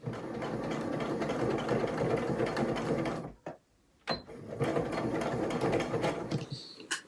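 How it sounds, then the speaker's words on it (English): A sewing machine stitches a fabric strap with a steady, close whirring hum, briefly pausing with a couple of sharp clicks before resuming its run. "all I have to do is sew on one more strap"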